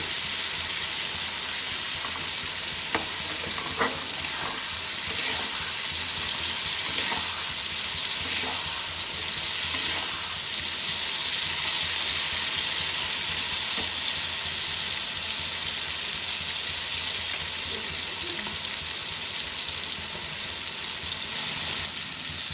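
Pieces of chilli fish fry in a pan and are stirred and tossed, giving a dense continuous sizzle with occasional scraping knocks, close and steady throughout with no talking.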